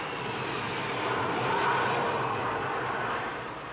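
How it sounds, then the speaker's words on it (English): A jet aircraft goes around after missing the last arresting wire on a carrier deck, a steady loud broadband engine roar that swells slightly midway and continues throughout, with no talk. "Sometimes a plane misses the last wire and goes around again."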